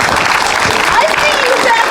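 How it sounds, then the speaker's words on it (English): Audience applause at an Alzheimer's walk in northern Maine: a steady wash of clapping that holds for the whole two seconds, with a voice talking over it. "So round of applause."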